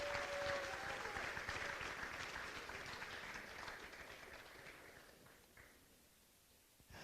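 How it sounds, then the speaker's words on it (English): An audience at a Manalapan High School senior athletics awards event applauds its fall athletes, a dense sustained round of clapping that slowly tapers off toward the end. "Please give them a big round of applause."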